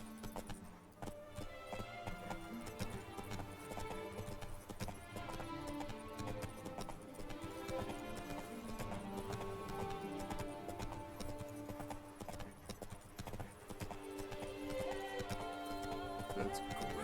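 Roach, the horse in The Witcher 3: Blood and Wine, gallops with steady, rhythmic hoofbeats that run continuously beneath a dense, layered game music score.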